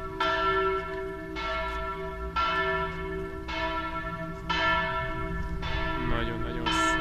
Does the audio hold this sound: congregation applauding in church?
no